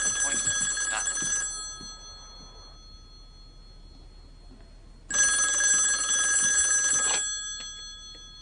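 A telephone rings with a trilling bell in two long bursts separated by a few seconds of quiet, loud and close in a room.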